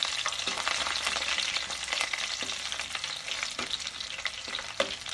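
Chopped onion and green chillies fry in hot oil in a pan, giving a steady dense sizzle punctuated by periodic stirring scrapes, with no talking.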